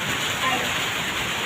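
Steady rain falls during a typhoon, an even hiss of drops on surfaces that holds without pause for the brief moment, moderately loud and uniform, with no voice in the clip.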